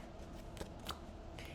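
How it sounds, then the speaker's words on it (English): A tarot card deck is shuffled by hand, making a few soft, quick papery flicks and riffles, faint and close, with no voices. "Then I would grab my trusty tarot deck and I would start a shuffling."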